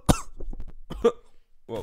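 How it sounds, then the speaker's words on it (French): A single sharp, close cough bursts out, followed by a few short, breathy throat sounds and a final rough exhalation, with no talking. "c'est mon charisme qui m'a fait tousser"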